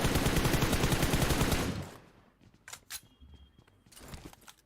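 Rapid automatic gunfire in a PUBG Mobile match, a loud dense burst of shots for about two seconds, then a few scattered single shots and distant pops in a quieter stretch.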